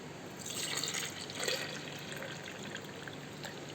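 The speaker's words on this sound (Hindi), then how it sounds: "अब इसमें मैं कर रही हूँ दूध ऐड" Milk is poured into a blender of ground mango to make a mango shake, producing a steady liquid trickle and splash nearby that holds at an even level without talk.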